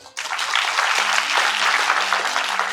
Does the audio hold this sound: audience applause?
yes